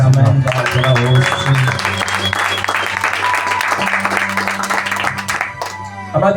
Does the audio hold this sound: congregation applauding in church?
yes